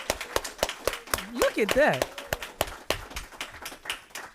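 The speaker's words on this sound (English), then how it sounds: "let's just clap it up, show our appreciation" Audience applause at a packed lecture event, a crowd clapping steadily in sharp repeated bursts across the whole stretch, with a voice speaking over it briefly.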